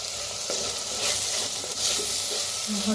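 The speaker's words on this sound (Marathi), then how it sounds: "छान भाजून घेऊया." Bitter gourd masala with tomato, coriander and garlic paste fries steadily in a pan, a close, continuous sizzle with occasional stirring scrapes, no voices.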